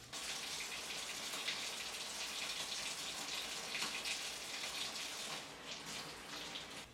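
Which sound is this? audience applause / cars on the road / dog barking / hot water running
hot water running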